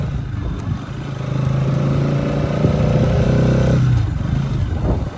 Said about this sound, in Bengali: বাইক নিয়ে পাহাড়ে মেঘের ভেতরে